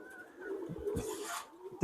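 Pigeons in a loft giving low, throaty coos close by, a short rolling call with a soft flutter near the end.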